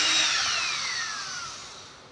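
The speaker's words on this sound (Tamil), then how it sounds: "வுட்டில் பண்ணும்போது பார்த்திங்கன்னா வந்து நல்லாவே ட்ரில் பண்ணுது" An electric drill bores into wood with a high whirring bit that slowly drops in pitch as it bites deeper, loud and close, then eases off with no one talking.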